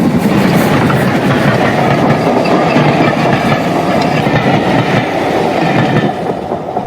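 A train rolls steadily along rails at speed, a loud continuous rumble with faint rhythmic clickety-clack from the wheels and no voices.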